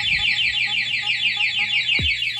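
A motorcycle anti-theft alarm blares a continuous, loud warbling siren whose rapid electronic sweeps repeat steadily throughout, with a brief low thump near the end.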